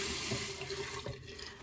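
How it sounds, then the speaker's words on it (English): Water runs steadily from a tap into a sink while preparing shaving lather with a 1920s Gillette ball-type safety razor and Nag Champa shaving soap; a continuous close, even rush with no talk. "A little bit more water."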